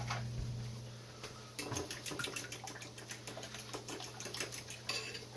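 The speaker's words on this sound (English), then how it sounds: "Let's get these eggs beat up." Eggs being beaten in a bowl with a utensil, a quick regular clatter of whisking strokes against the bowl, close and moderately quiet over a low steady background hum, no speech.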